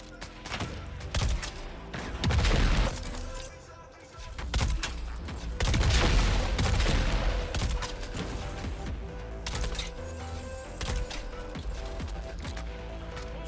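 An automated turret fires in a Dune Awakening PvP fight, giving repeated loud bursts of gunfire with heavy thumps and clatter layered across the whole stretch.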